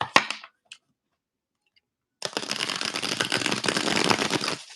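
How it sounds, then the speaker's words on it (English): Cards shuffled by hand: a couple of brief riffles up front, a short quiet gap, then a sustained dense flurry of shuffling that runs to the end, close and fairly loud. "I'm shuffling up your cards."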